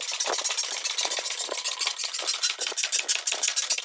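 A metal shrinker working the edge of a trunk lid panel, loud rapid rhythmic mechanical clicking and crunching repeating steadily up close, with no talk.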